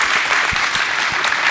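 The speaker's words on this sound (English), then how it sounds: "How about a round of applause for these two?" Audience at an evening sales networking event with burgers and beer applauding, a short burst of loud, close clapping with a few distinct nearby claps.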